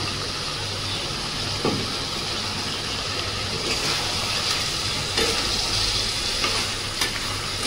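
Ginger, garlic and green chilli paste hits hot oil in a pan while cooking chicken, giving a loud, steady, close sizzle and hiss that runs throughout, with a few faint stirring scrapes and no voices.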